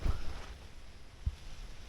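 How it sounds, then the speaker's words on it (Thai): Strong wind gusts buffeting a solo camp on a mountain at night, low rumbling blasts hitting the microphone with a heavy thump at the start and another around the middle. "ลมก้อนแรงใช้ได้นะครับ"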